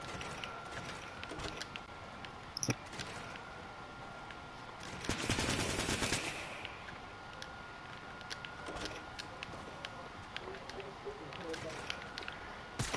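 Enemy gunfire in a video game: bursts of rapid shots crackle through a busy game mix, loudest in a dense volley midway, with a player's voice talking over it.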